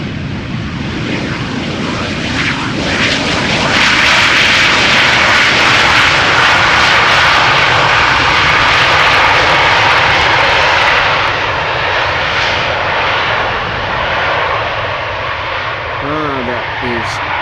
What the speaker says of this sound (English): That is the airplane I was hearing.